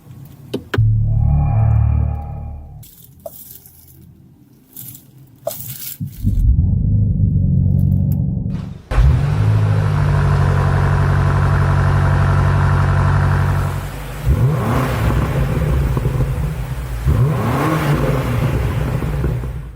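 A 2026 BMW M5 sedan thunders through several bursts of hard acceleration, its deep engine roar swelling and cutting off between gear changes and surges, close and loud with no talk.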